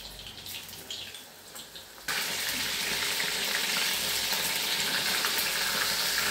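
Coated soya chunks go into hot oil for soya chilli: a quieter stretch of kitchen noise breaks into a sudden loud, steady hiss and crackle of frying that carries on evenly to the end.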